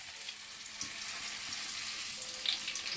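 Banana rolls, turon, laid into a hot pan of oil, frying with a constant dense sizzle and crackle, close and even, with faint small clinks over it.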